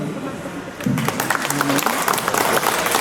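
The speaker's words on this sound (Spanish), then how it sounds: "para lo cual pido un voto de aplauso" Wedding guests at a civil marriage ceremony break into applause that swells and stays dense and lively, following a stretch of murmur and a voice at the start.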